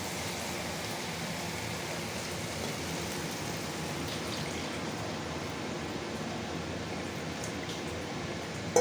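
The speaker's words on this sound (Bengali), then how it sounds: "এবার আমি এর মধ্যে জল ঢেলে দেবো।" Water is poured into fried potatoes and spice masala in a pan for a shol fish curry, making a steady, even hiss and rush that holds at one level from start to finish.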